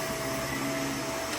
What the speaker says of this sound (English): I ended up vacuuming the whole kitchen